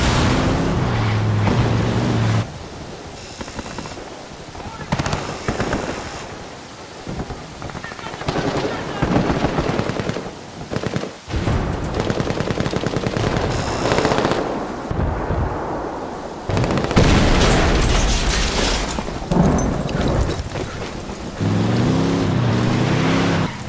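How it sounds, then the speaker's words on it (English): Gunfire and explosions from a camp battle between rebels and Santa Blanca cartel in Ghost Recon Wildlands, including a detonated C4 charge, with loud bursts of shots and blasts continuing throughout amid vehicle-like rumble. "This camp is now erupting into a full gunfight between the rebels and the Santa Blanca."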